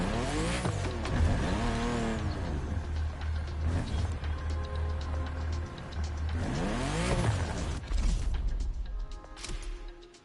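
A 2002 Ferrari Enzo supercar in The Crew Motorfest roars through repeated revving sweeps, rising and falling as it accelerates and shifts, with tire squeal between passes, loud and close.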